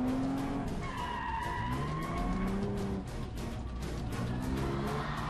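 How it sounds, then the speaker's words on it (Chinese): A stunt car drifting at a motorsport show, with long squealing tire skids rising and falling over a roaring engine, loud and continuous throughout, with no talk. "特技车手黄德龙酷炫的漂移俘获了大批观众的心"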